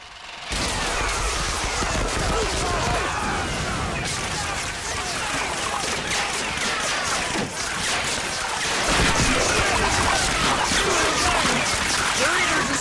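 A chaotic D-Day Omaha Beach battle in a first-person shooter game, with dense, continuous gunfire and explosions against roaring surf, loud and unbroken throughout while people talk.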